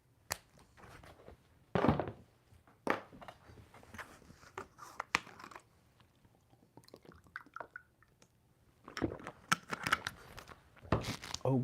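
Irregular crisp slapping and riffling of tarot cards being shuffled, bursts of quick shuffling separated by brief pauses, close and fairly quiet.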